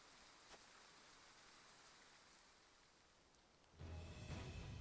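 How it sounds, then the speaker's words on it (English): Rain falls in the Nintendo Switch game Triangle Strategy: a faint, steady hiss of rainfall that swells suddenly louder and fuller toward the end. "Rain! Honest to goodness, rain!"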